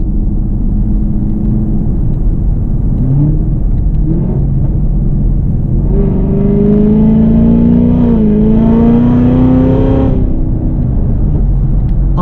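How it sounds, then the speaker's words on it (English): Supercharged V8 of a 2016 Cadillac CTS-V with Corsa exhaust, driven on a back street in manual mode, rumbles steadily up close, then swells into a louder rising drone midway before settling back. "Still hear that Corsa exhaust rumbling away."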